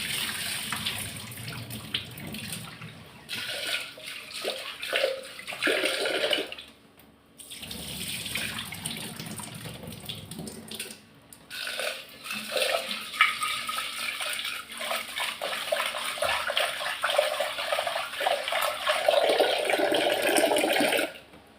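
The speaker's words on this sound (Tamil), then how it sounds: "கொஞ்சமாக பருப்பு எடுத்துருக்கேன், அதை நல்லா வாஷ் பண்ணி எடுத்துக்கிறேன்." Lentils (dal) are washed under a running kitchen tap for sambar. Water hisses and splashes steadily and fairly close, with brief pauses and sloshing as the grains are swirled and rinsed, and no speech.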